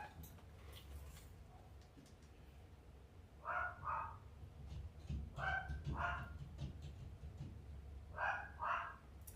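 A dog barks indoors in a few short bursts of two or three yaps each, spaced several seconds apart, moderately distant over a low background hum with no talking.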